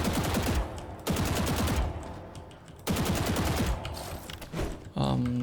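Repeated bursts of rapid gunfire shot through a wall in the Valorant tactical shooter, several sustained volleys with short gaps between them, loud and close, ending in a sharper mechanical clatter.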